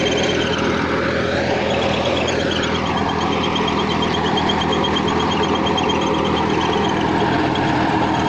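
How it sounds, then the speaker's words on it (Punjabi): A 5204 tractor with a reworked diesel pump pulls a rotavator under full load, giving a loud, steady diesel drone with mechanical clatter that stays close and unbroken throughout. "ਪਹਿਲਾਂ ਇਹ ਟਰੈਕਟਰ ਸਾਡਾ ਇਦਾਂ ਨਹੀਂ ਸੀ ਖਿੱਚਦਾ ਰੂਟਾਵੇਟਰ ਜਿੱਦਾਂ ਹੁਣ ਖਿੱਚਦਾ"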